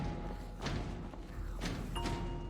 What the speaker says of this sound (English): The sounds of multiple hands bashing against it scared Geneva